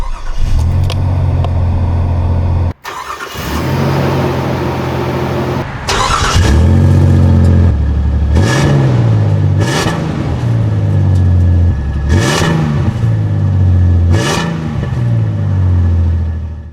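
A Nissan Frontier V6 engine with newly fitted headers cranks and catches, then idles before being revved repeatedly in regular surges, loud and close.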